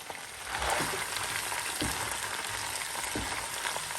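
Lamb sizzles with onions and black pepper in a hot pan while being stirred, a steady close frying crackle with soft scraping thumps of the spoon at intervals.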